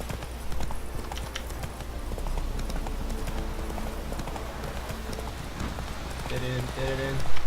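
Horse hooves clip-clopping at a gallop in The Witcher 3 video game, a steady rhythmic beat throughout with rain-like ambience and game music, while a person talks over it.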